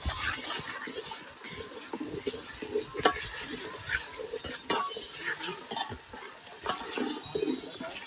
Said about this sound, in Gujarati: જો ડુંગળી લાલ થઈ ગઈ છે એટલે હવે આ કેરી આપણે નાખી દેવાની છે